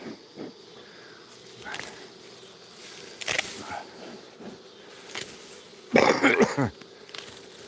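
Bees buzz around beehives with a thin insect drone, broken by close rustling and handling noises and a louder burst of activity toward the end.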